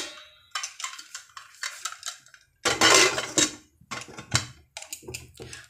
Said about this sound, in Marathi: आता ह्याला छान झाकण लावून घेऊया.